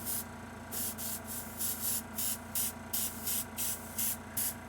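Airbrush spraying a base coat on a painted figure, short repeated hissing bursts in a steady on-off rhythm, close and soft over a faint background hum.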